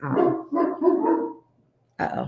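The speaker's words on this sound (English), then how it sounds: "there's dogs." Dogs bark in three loud, close bursts, the first two overlapping into a rough run of barks, then a short silence before a final sharp bark.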